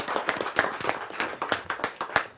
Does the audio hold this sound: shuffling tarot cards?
no